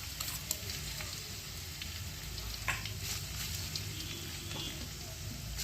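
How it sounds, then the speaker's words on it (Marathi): Chopped green chillies frying in hot oil for a crisp puffed-poha chivda make a continuous crackling sizzle, with occasional sharper pops and faint stirring over a low background hum. "तेल गरम झालेलं आहे, त्यामध्ये आपण आता पहिले मिरची टाकूया।"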